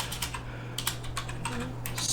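Rapid clicking keystrokes on a computer keyboard while a kubectl command is entered, close and moderately loud over a low steady hum, no talking.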